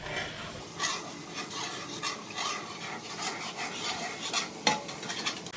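Orange chicken pieces and ingredients being mixed in a pan, a steady scraping and stirring with light clinks of a utensil against the pan and a faint sizzle, close and continuous with no talking.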